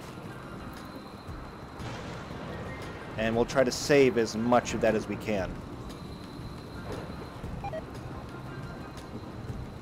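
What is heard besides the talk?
rain and thunder in video game RimWorld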